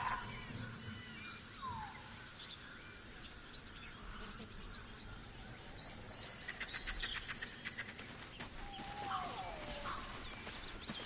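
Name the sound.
chickens clucking in the video game Baldur's Gate 3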